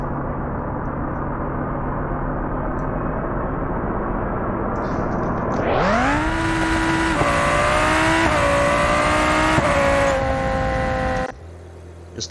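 Civetta Scintilla supercar in BeamNG.drive idling with a low rumble, then launching hard with a loud rising engine howl through several gear changes before cutting off abruptly.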